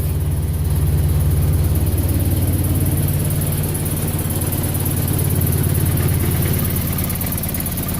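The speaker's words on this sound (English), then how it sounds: "we got a little exhaust leak. She's running a little rough." A Chevrolet HHR engine with an exhaust leak idles roughly and unevenly nearby with a throaty, puffing exhaust note, loud and continuous throughout.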